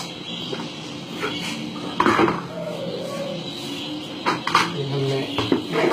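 Soft food for parrots, made from soaked grains, being mixed in a bowl, with scattered clinks and scrapes of a spoon against the dish and a faint voice in the background.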